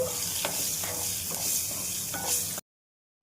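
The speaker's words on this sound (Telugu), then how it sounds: "ఎండు మిరపకాయ ఇలాగ కట్ చేసుకుని వేసేసుకుని ఒకసారి వేయించేసుకుందామండి" Dry red chili fries in tempering oil, sizzling steadily and close by, with a few scraping stirs in the pan, before the sound cuts off abruptly.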